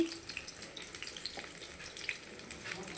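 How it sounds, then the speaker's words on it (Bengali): Lentil fritters frying in oil in a home kitchen, a soft, steady sizzle with small crackles, fairly quiet and without talk. "বড়া ভাজছি।"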